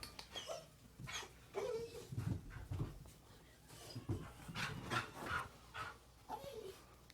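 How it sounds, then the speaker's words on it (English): An excited dog whimpering and panting in quick, irregular bursts close by, with soft yelps rising between breaths and faint room talk underneath. "That's just my dog."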